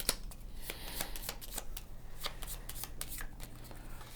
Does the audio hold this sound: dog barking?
no